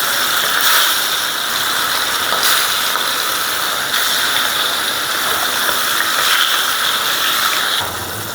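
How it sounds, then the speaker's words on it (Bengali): Hilsa fish laid into hot oil in a frying pan gives a steady, loud hiss and crackle with occasional sharp spits, continuing without pause and easing slightly at the end. "তেলটা গরম হয়ে গেছে, দিয়ে দেবো মাছ।"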